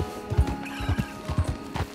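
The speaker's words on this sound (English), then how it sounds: "Oh, a shiny-headed horse." A horse in a Western video game neighs while its hooves thud in quick, uneven beats close by, with the whinny running over the footfalls for the whole moment.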